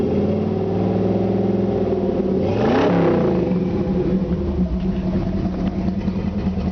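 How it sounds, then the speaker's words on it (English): A 1953 Ford F-100 hot rod with a retro Ford V8 and side-pipe exhaust idles with a deep, steady rumble, then blips the throttle once in a short rev before settling back to a lumpy idle. "Excellent sounding exhaust. It's got side pipes."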